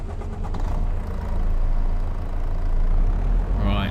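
A truck engine in a video game turns over and settles into a steady, low idle. The rumble stays close and constant throughout, with a brief higher whine at the very end.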